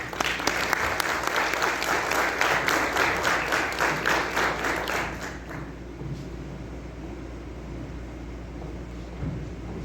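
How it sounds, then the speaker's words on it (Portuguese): Audience at a waterproofing engineering lecture in Mongaguá gives a round of applause, steady dense clapping for about five seconds before stopping abruptly into quiet room tone. "uma salva de palmas para Igor Gonçalves."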